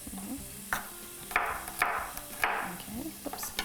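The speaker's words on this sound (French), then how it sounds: "Je vais juste couper ça grossièrement." A knife coarsely chops eggplant on a cutting board, giving several irregular thuds and knocks spaced over a few seconds, close up, over a faint kitchen background.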